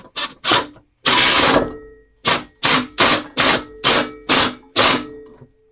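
A ratchet or impact tool tightens a part on a small engine in several loud bursts: one long whir, then about six short, evenly spaced pulses close by, with no talk.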